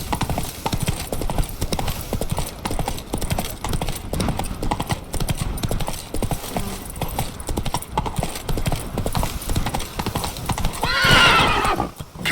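Roach, a horse in The Witcher 3 video game, clip-clops at a steady trot with rhythmic hoofbeats throughout, closing on a loud neigh near the end.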